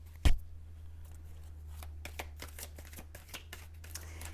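Oracle deck shuffled for a card reading: a brisk flurry of papery card flicks and taps after one louder knock, close-up over a low steady hum, with no speech.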